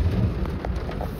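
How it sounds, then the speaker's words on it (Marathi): Heavy monsoon rain pours down in Goa, a steady close hiss with low rumbling underneath like distant thunder, heard alone without any voices. "पण प्रॉब्लेम असं झाला आहे की पाऊस काय थांबायचं नाव घेत नाही."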